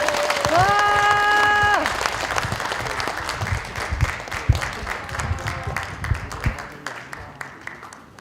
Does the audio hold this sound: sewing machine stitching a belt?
no